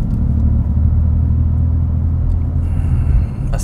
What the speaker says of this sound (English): the engine sounds so good